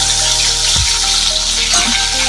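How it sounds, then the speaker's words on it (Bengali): Potatoes frying in a small amount of oil in a pan make a loud, steady, close sizzle with a brief clatter partway through, and nobody talks. "আলুটা ভাজা হোক, লাল লাল হোক"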